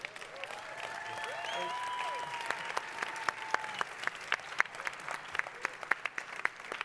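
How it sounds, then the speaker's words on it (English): A conference audience at a Lisbon keynote breaks into applause, a soft wash of clapping that swells into sharper, scattered claps, with a few tonal squeals ringing over it at moderate distance. "You can give them a big applause."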